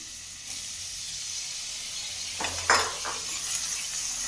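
Soft sizzle of tomato frying in sesame oil, with a few quiet spoon scrapes and clinks against the pan as it is stirred, faint and close.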